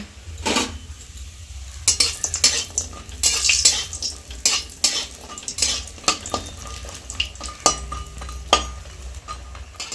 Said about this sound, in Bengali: তেলটা গরম হয়ে গেছে, এবার আমি বড়িগুলোকে ভেজে নেব।